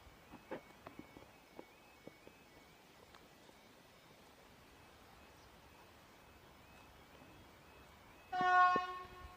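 Freight train approaching an LED-lit level crossing, heard from a distance: soft intermittent clanks and rumble under a steady background hiss, then a sudden loud horn blast with rich harmonic tones near the end.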